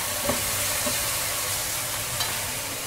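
Chicken sizzles steadily in a hot frying pan, a continuous crackling hiss with a couple of faint stirring scrapes.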